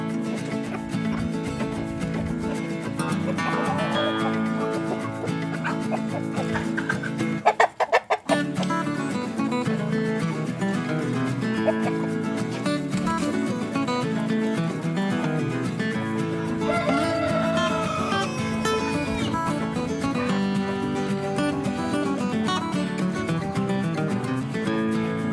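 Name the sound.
chickens clucking after being released into paddock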